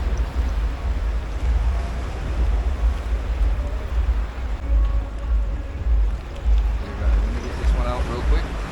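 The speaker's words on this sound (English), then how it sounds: "water's still kind of rough. Waves smacking my rigs around." Rough sea at night on a fishing outing, with waves rumbling and washing constantly in low-frequency surges mixed with wind buffeting the microphone, steady and fairly loud for the whole stretch.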